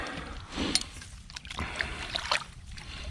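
A metal trap dropped into shallow water after being anchored at a stomped-down bed, giving a couple of short, close sloshing splashes against a low outdoor background.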